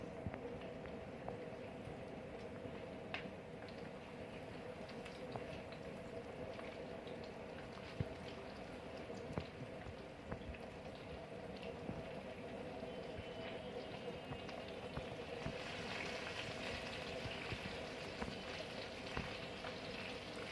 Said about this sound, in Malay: Minyak kita sudah panas, kita nak goreng lomek tepung guys.